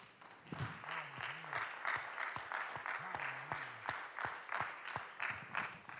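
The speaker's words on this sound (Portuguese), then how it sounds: "Vamos aplaudir ao Senhor com alegria." Applause at a home worship service, a modest spread of hands clapping with uneven rhythmic accents, faint and somewhat distant, with a voice briefly heard over it.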